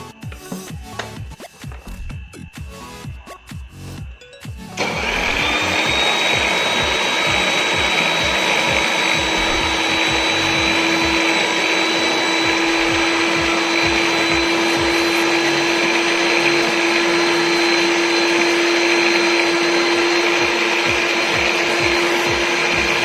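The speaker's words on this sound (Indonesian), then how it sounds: "sekarang kita mixer dulu, nanti baru kita masukkan gula pasirnya" An electric hand mixer beats butter cake batter in a loud, steady motor whine. Scattered clatter comes first, then the mixer switches on and runs continuously at close range.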